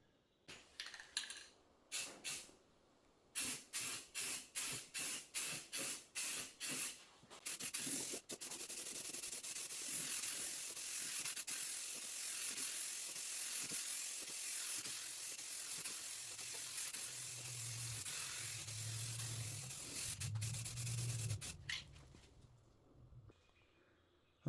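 A Rust-Oleum 2X paint and primer spray can in Blossom White fires a run of short hissing bursts, then one long, steady, loud spray of about fifteen seconds that cuts off abruptly near the end.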